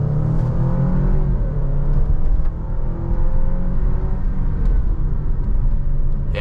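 An Alfa Romeo Stelvio Veloce's 2-liter engine pulls hard under acceleration, a loud, steady rumbling drone heard from inside the cabin, with engine tone climbing and road noise underneath.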